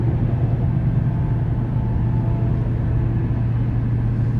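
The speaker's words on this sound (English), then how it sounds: "rev's pretty good to be at 75 and be at about 1800 RPMs. Especially with a 5-speed automatic." A 2009 Dodge Ram 1500 TRX pickup with a 5.7 V8 and five-speed automatic cruises down the interstate at about 75 mph and 1800 RPM, giving a steady low engine drone and road rumble with no talking.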